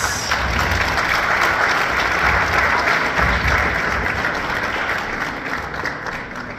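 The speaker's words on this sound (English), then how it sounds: "Ladies and gentlemen, please give a warm round of applause for Blaq Ice." Sustained audience applause at a live DuSable Day event at the Hilton in Chicago, welcoming the poet Blaq Ice; dense, even clapping fills the room throughout and eases slightly toward the end.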